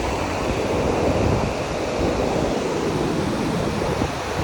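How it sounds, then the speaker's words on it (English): Ocean waves breaking on a beach at Cape Canaveral at night, a continuous loud roar of surf mixed with wind buffeting the microphone, with no voices. "there are people still enjoying the beach waves"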